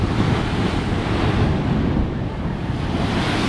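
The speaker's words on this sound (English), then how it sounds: "Gone absolutely mad, the sea." Wild waves pounding the shore at Whitley Bay on a cold sunny day, a dense, steady roar of surf up close, mixed with heavy wind rumble across the microphone.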